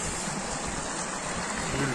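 Spring water gushes out from under stones at a village spring in Ağbulaq, Lachin, a close, steady rushing wash of water that runs without a break, with a faint voice in the background.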